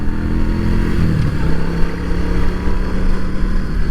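Carbureted motorcycle engine running steadily while riding, a continuous low droning rumble with a shift in pitch around the first second, close and loud throughout with wind noise and no talking.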